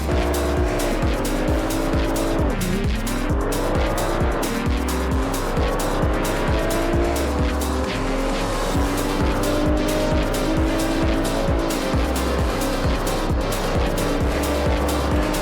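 Race cars charge around a track in Assetto Corsa, engines roaring loud and close with rising and falling revs through gear changes, tires squealing through corners and rapid rhythmic pulses of engine noise throughout.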